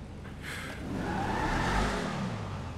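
A Beater Dukes muscle car in GTA V drives through city streets, its engine note steadily climbing and droning with a rough, throaty tone and no voices over it.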